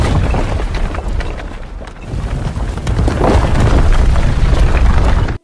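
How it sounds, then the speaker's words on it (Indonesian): A large explosion blasts open the west wall of a fortress in an Indian film, a loud, dense roaring rumble that swells and persists for several seconds with no speech. "2 orang berhasil meledakkan tembok barat"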